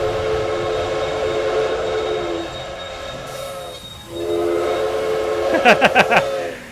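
A locomotive in the Railway Empire train game rolls along with a steady rumble and drone. Near the end it gives a quick run of four or five sharp whistle toots, loud and close.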